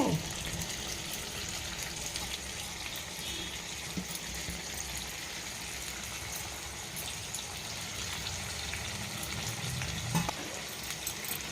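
Country chicken curry cooked with ginger-garlic paste, oil and tomato being stirred up and down in a pan, heard as a continuous close sizzle with soft scraping under it and a few brief clanks.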